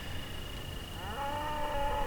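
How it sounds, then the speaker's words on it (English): Cattle moo in the distance in a Montana hunting area, a single drawn-out low call rising partway through over a quiet outdoor background, with no voices. "you can probably hear the cattle right now"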